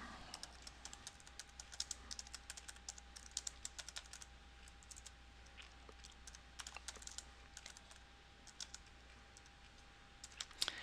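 Steady typing on a computer keyboard in an office software setting, quick irregular key clicks close to the microphone, faint and continuous for about eleven seconds with no talking.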